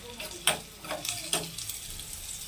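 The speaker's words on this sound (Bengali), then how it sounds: "রান্নাঘরে এখন পেঁয়াজ আর লঙ্কা ভাজছি।" Onions and chillies frying in a scorched bowl on a kitchen stove, a close, soft sizzle broken by a few clinks and scrapes of stirring.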